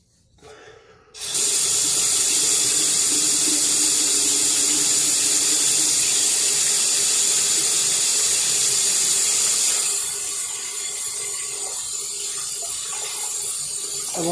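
Cold tap water gushes from a bathroom faucet into a sink during face washing, a loud, steady, close rush that starts abruptly after a brief quiet moment and softens slightly near the end.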